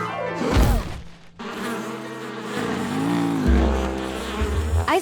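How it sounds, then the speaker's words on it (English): Cartoon bees swarm and buzz around their hive, a loud droning hum that rises and falls in pitch as they move, mixed with whooshing effects. "The bees are protecting their home."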